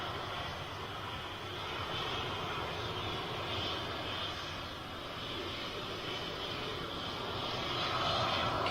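Steady, broadband roar of a KLM airliner's jet engines bound for Amsterdam, a continuous even wash of noise that holds at moderate level and swells slightly toward the end.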